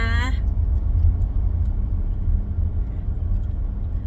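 A car driving home on a Thai road, its steady low engine rumble and road noise close and continuous throughout, with a brief higher whine at the very start and no one talking.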